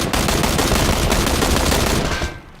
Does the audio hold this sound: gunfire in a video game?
yes